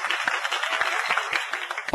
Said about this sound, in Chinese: 而此处应有掌声啊。